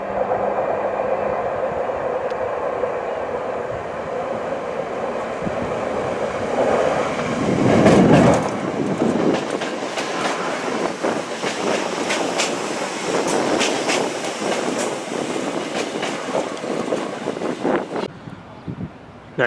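A Northern Rail train at Blackpool station: a steady rumble of a train moving along the platform, with broadband rolling noise and clicks rising mid-clip and continuing before fading near the end, with no talk over it.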